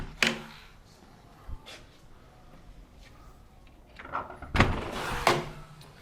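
Integrated folding doors slide and clatter open in a few distinct bursts, with quiet pauses between the knocks and rolling sounds.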